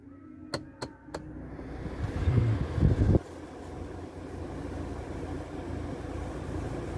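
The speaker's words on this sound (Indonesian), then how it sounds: "Itu blower yang dua ini yang belakang ini masih hidup." A rear AC blower fan in a Mitsubishi Xpander runs steadily as a continuous broadband whoosh, with a few sharp clicks early and a brief louder rumbling burst before the airflow settles.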